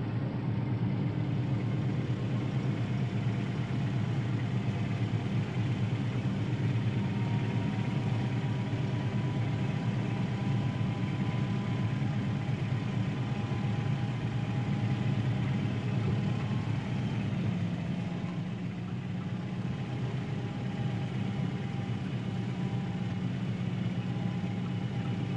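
A vehicle engine hums steadily while towing digging equipment at walking pace behind a pilot car, a continuous low-pitched drone with a slight shift in tone partway through and no talk.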